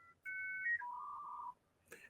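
A 1990s dial-up internet connection over a home phone line: a dial tone, then a high steady modem tone dropping to a lower sustained tone, ending in a short burst of harsh static.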